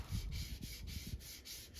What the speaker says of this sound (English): I'm just giving this a very light sanding,